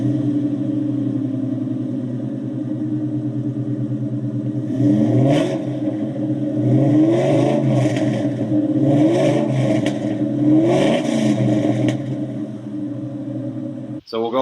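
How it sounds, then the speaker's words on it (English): A Ford Mustang's engine idles with a deep, steady exhaust rumble, then revs up several times in rising surges before dropping back to idle. "you'll get to see a lot of a clip of her exhaust right after this"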